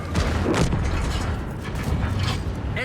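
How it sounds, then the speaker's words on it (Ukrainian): Tank cannon fired into the ground in World of Tanks, a heavy booming shot with rumbling mechanical tank noise sustained through the clip at close range. "стріляємо в землю"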